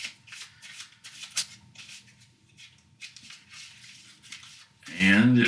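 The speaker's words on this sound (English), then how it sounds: "we're going to shuffle up our minion deck" Cards from a minion deck in the Dungeon Crusade 2025 reprint board game being shuffled, a quiet riffling patter running for several seconds before a louder burst of handling near the end.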